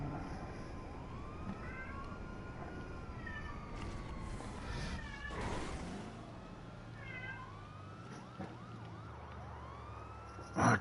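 A cat meows in a GTA 5 scene on PS5, with several short, rising and falling cries scattered across the clip, moderately faint against a busy game background that includes a distant wailing siren.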